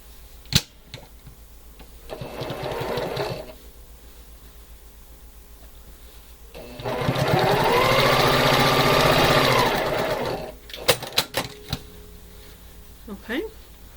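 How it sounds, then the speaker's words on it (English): A sewing machine stitches quilt block pieces with a quarter-inch seam, running in two bursts, a short softer one and then a longer, louder steady whir of about three seconds, with sharp clicks and handling noises around it. "so 1/4 inch down that side"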